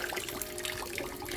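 Gentle steady flow of water running over a gold screw recovery device for fine gold, a close continuous trickling wash with no talking.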